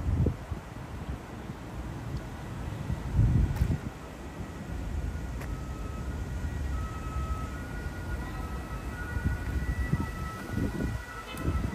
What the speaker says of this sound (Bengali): এটা কিন্তু একটা ট্রেন।